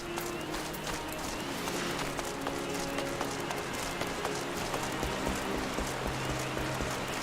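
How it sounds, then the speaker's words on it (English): Rain in the video game Final Fantasy XIV falls as a steady, hissing patter at a moderate level, with soft sustained tones from the game playing underneath. No one speaks. "What's in all this fucking rain?"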